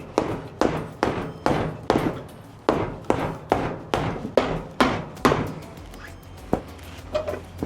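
Boot leather is pounded by hand with a hammer, about twelve sharp, fairly close blows in an irregular rhythm, some coming in quick pairs, with a low hum running underneath.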